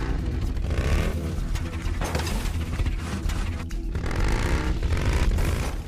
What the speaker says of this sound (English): It is neat that you just have to keep revving the engine.